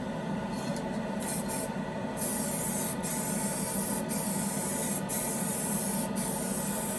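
A spray can lays a steady, close hiss of clear coat over the roof of a 1968 Coronet scale model car, one continuous pass lasting several seconds, with a couple of brief pauses.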